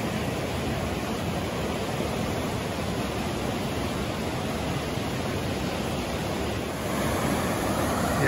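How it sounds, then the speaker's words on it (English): Rapids on the Rogue River roar in a dense, steady rush of churning water, loud and continuous with no voices. "Those are some gnarly rapids down there."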